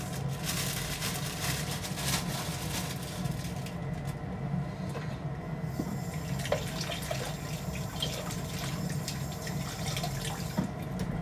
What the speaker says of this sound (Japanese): もやしは洗います